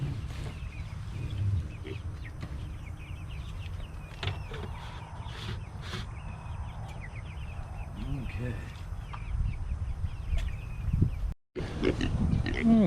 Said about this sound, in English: I'm gonna water these pigs